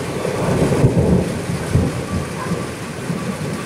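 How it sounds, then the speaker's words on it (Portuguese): Thunder rumbles low and heavy through steady rainfall during a storm in Conselheiro Lafaiete, Minas Gerais, Brazil, with rain hissing on surfaces and deep rolling booms rising and fading in the background. "Dos trovões."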